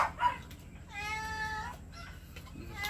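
A pet cat at home gives a short meow followed by a longer, drawn-out harmonic meow, fairly close and clear over quiet room background.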